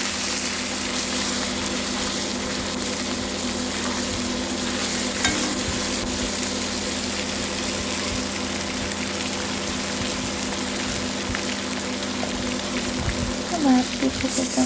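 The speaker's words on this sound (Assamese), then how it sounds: "মাছটো একদম ফ্ৰাই যাব লাগিব" Fish sizzles and spits steadily in a hot pan for an Assamese fish curry, with occasional stirring scrapes and soft voices talking over the constant frying.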